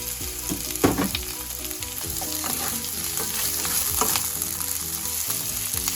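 Fish fries in a hot pan in a home kitchen, a loud continuous sizzle and crackle with scattered pops and occasional stirring clatter, close up with no talk.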